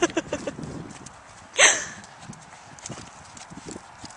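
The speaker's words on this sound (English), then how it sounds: "Lauren riding Cayman, and Shannon is filming. Bareback" A horse ridden bareback moves along with soft, irregular hoof clip-clops at moderate distance, one sharp louder knock standing out midway, amid faint outdoor noise.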